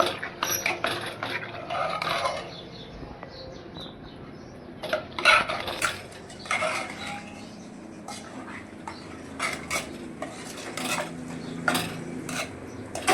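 A spoon clanks and scrapes against a metal pot while dal baati ingredients are mixed, with irregular knocks over a steady low hum.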